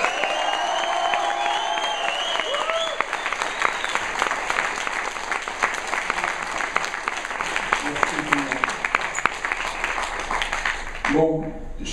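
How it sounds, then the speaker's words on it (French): A crowd at an entrepreneurship talk claps steadily and at length, with whoops and shouts mixed in and voices heard in the room, before the noise tapers off at the end. "que vous applaudissiez tous ces gens-là"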